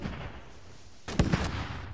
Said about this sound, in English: Is that the rocket techie making shots?